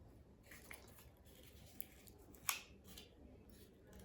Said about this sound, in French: Et ensuite, vous allez donc couper.